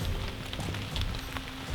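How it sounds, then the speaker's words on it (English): Rain falls steadily on a surface with scattered drop patters and crackles, a dense close wash of sound with no speech. "It's really raining."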